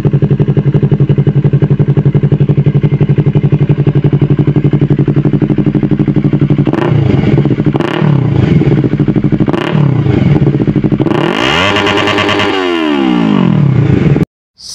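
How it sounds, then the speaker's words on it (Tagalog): Yamaha MT-03 motorcycle fitted with a Villain aftermarket exhaust, loud and close, holding a steady deep idle before several sharp throttle blips and a final rising rev that cuts off abruptly. "MTO3 sound check villain exhaust."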